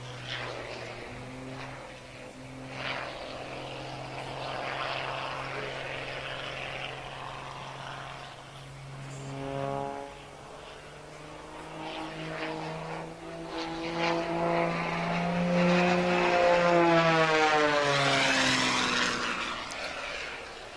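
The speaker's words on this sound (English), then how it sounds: "And Paul showing you the precision aerobatic point rolls to show why he won the 2009 Unlimited Aerobatic Championships" A propeller aerobatic airplane flying precision point rolls, its engine tone rising and falling in pitch as it passes, moderately distant and growing louder toward the end.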